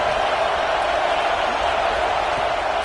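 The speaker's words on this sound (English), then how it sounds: "Listen to this crowd just shaking the girders of this place" A stadium crowd in a college football video game, Alabama versus Oklahoma, roars as a steady, loud, continuous wash of cheering.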